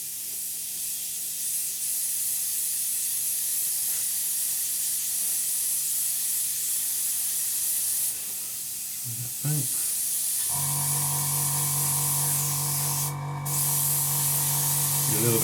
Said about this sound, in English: we'll just spray this down